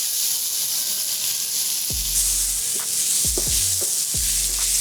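Garlic dropped into a hot pan while cooking Cajun jambalaya, a steady sizzle with several sharp bursts as pieces hit the oil, close and loud.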